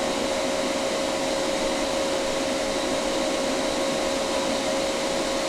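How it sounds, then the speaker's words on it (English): A refrigerant reclaimer machine used during a Whirlpool refrigerator repair runs with a steady, loud mechanical whir and a constant tonal hum, unchanging and alone throughout. "Then I'm going to turn my reclaimer on, so it's going to be noisy."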